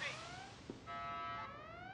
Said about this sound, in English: Sound the collision alarm.